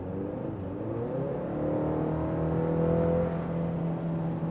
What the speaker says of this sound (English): I'm going to go ahead and just put my foot down and see how the truck behaves.